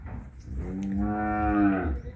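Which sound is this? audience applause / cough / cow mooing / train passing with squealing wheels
cow mooing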